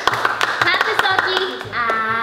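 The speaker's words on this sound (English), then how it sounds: "Clap for Soggy." Several quick hand claps from kids celebrating during a British candy taste test, sharp bursts spread over about two seconds and mixed with voices and background music.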